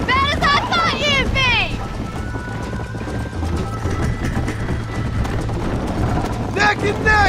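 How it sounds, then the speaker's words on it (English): A horse gallops in the Red Dead Redemption video game with steady, close clip-clop hoofbeats over wind and ambient noise. A whinny rises briefly near the start and again near the end. "I think you chose the wrong horse, Miss McFarland."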